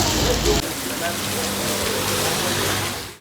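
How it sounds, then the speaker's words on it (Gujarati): Heavy rain pours down in Himmatnagar during a windstorm, a dense, steady hiss with gusty roaring wind, loud and close throughout, fading abruptly at the very end. "કેટલો ભયંકર વરસાદ પડી ગયો છે વાવાઝોડા સાથે વરસાદ"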